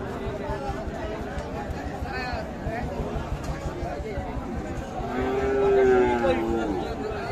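A dairy cow moos at the Ambari cattle haat, a livestock market where local Deshal cows are sold with their calves. One drawn-out low moo swells near the end over the steady murmur of crowd talk.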